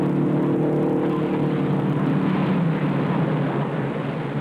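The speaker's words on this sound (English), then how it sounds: "Here comes Bryan down the straightaway for the checkered flag." Race cars at the 1958 Indianapolis 500 roaring down the straightaway on the final lap, a loud, continuous engine drone without a break.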